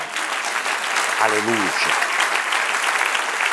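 A church congregation applauds loudly and steadily throughout, with a voice briefly calling out over the clapping.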